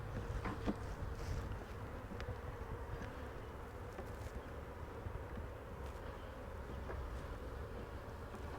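Honey bees hum and buzz steadily around an open hive during hive work outdoors, a continuous droning swarm with a few louder passes close by, no voices.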